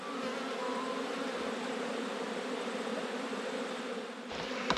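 A dense, even hum of many honeybees fills the air around an open hive, a steady faint drone with a sharper rustle near the end.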